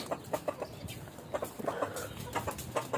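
Hens clucking on a rooftop where they are kept, with short soft calls repeating irregularly at moderate distance over a faint steady background hiss.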